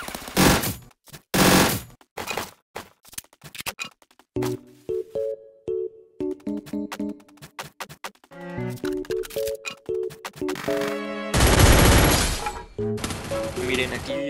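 Sniper shots from an AWM rifle in the mobile battle game Free Fire, sharp loud reports scattered through busy game effects and music-like tones, with a long roaring burst near the end.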